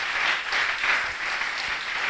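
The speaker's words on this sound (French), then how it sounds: "Nous acclamons le Seigneur Jésus-Christ." A church congregation applauding during a service, a dense, even wash of many hands clapping at moderate volume from across the room, with no voices over it.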